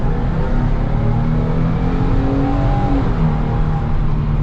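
Steady, loud engine roar and drivetrain whine from a 2022 Ford Transit 150 cargo van with a 10-speed automatic, heard from the cabin at full throttle with no talking.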